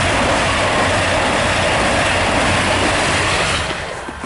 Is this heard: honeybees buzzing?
no